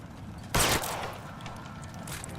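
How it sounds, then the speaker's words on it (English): A single loud, sharp gunshot in the LA Noire video game bursts out briefly, then a steady background hum carries on with no talking. "Closer, I'll pull the trigger."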